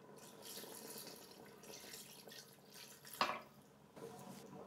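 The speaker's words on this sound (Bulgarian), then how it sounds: "Добавям достатъчно вода, колкото да покрия месото." Water is poured over meat for a wine kebab inside a multicooker, giving a steady watery trickle and splash throughout with a brief louder drip or splash near the end, close and fairly quiet.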